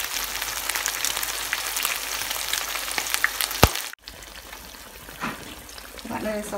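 Salmon sizzles steadily in plenty of hot oil in a pan, close and crackling, then a sharp click cuts it off and a quieter, muffled kitchen background remains.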